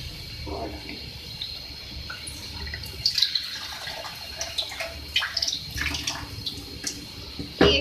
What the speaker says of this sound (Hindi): साथ में मैं इसमें ऐड कर रही हूँ 1 कप वाटर